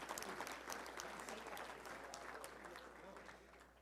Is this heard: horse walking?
no